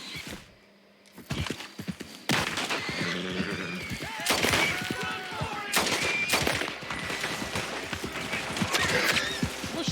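Gunfire in the video game Red Dead Redemption 2, a rapid series of sharp, loud shots packed across the scene alongside hoofbeat-like clatter, with a brief quiet stretch near the start.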